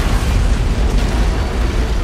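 An antimatter charge explosion in Halo: Combat Evolved: a loud, sustained rumbling blast with a dense low roar that holds steady for a couple of seconds.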